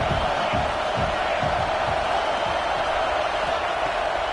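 A stadium crowd at a Nebraska versus Texas college football game roars in a continuous, broad, distant wall of cheering, with a voice faintly audible beneath it.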